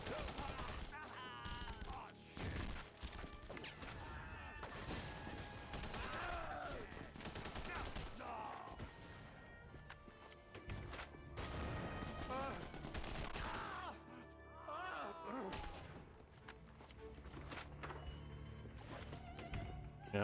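M16 rifle fire in The Punisher video game. Short bursts and single shots recur through a dense mix of game effects and music, at a moderate level under voices.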